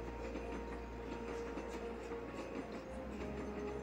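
Steady rumbling hum with faint rhythmic clatter from trains running in the mobile railway sim game Train Station 2, continuous and even throughout, with no voice over it.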